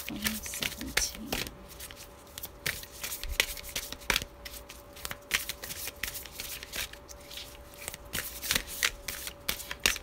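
Tarot cards are shuffled in rapid crisp riffles and snaps, near and fairly quiet, with brief pauses between bursts.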